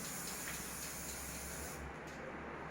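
A spray paint can hisses continuously in a steady close burst, then cuts off briefly near the end.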